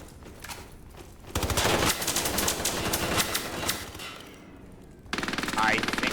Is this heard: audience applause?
no